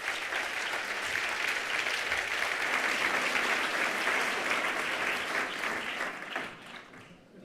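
A hall audience at a cultural presentation applauds a university professor, dense continuous clapping at steady strength that thins and fades out near the end.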